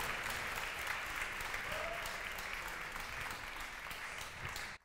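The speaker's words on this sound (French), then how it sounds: "Je vous invite à l'applaudir bien fort" An audience at a French final of a song contest for blind and visually impaired artists applauds, a dense, sustained wash of clapping that continues steadily and cuts off abruptly at the end.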